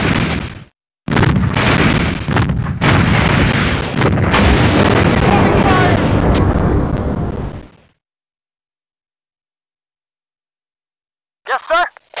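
Heavy gunfire and artillery blasts in the PC war game WarGames, a loud continuous barrage of booms and bursts that cuts off abruptly into silence, followed by a brief faint sound near the end.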